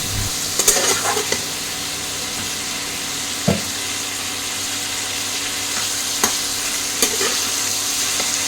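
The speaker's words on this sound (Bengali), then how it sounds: "টমেটো দিয়ে আলু, লঙ্কা, হলুদ, নুন দিয়ে একটু কষে নেব" Potatoes with tomato, chili, turmeric and salt stir-fried in a pan: a steady sizzle throughout, with occasional clinks and scrapes of a spatula against the pan, no voices.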